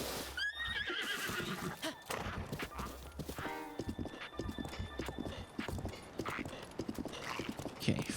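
Horse hooves clip-clop at a gallop with a sharp whinny early on, set against busy game sounds and music in The Legend of Zelda: Breath of the Wild.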